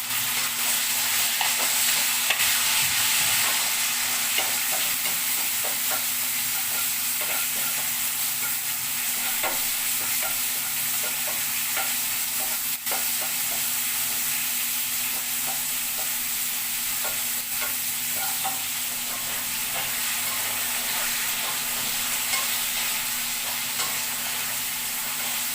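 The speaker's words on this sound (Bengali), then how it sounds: "আলু আর পুঁই শাকগুলো দিয়ে আমি ভাজা ভাজা করে নেব।" Potatoes and Malabar spinach (pui shak) sizzle steadily in a pan, with a constant frying hiss broken by soft scraping and stirring sounds throughout; no voices.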